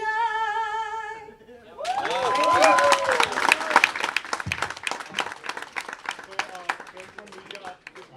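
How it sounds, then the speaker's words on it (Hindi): Applause breaks out after a sustained musical tone at a folk and fusion music festival, a dense crowd clapping with cheers and voices mixed in, fading into scattered claps. "आप देखिए कि जो तालियां बजी अभी, वो तालियां बज रही हैं"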